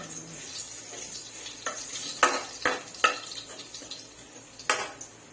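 Boiled pork intestines sautéing in a pan, a low steady sizzle punctuated by several sharp metallic clanks and scrapes of a utensil stirring against the pan, close and clear, no talking.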